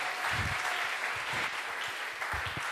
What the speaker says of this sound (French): Applaudissons pour la gloire du Seigneur.